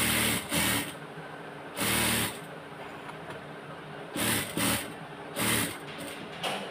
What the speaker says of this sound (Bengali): এখন মেশিনে দিয়ে সিলাই করে দিব চতুর সাইড দিয়ে